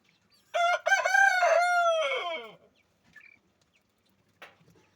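A young rooster crows once, a strained, slightly cracking cock-a-doodle-doo lasting about two seconds, followed by soft faint clucks.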